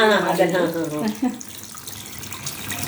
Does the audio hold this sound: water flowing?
yes